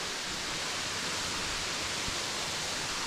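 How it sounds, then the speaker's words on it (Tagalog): Heavy, steady rush of the Bigaho waterfall in Port Barton, San Vicente, Palawan, swollen after rain, a dense broadband roar filling the scene close by with no voices over it. "Malakas ang tubig ngayon, oh. Kasi umulan, oh."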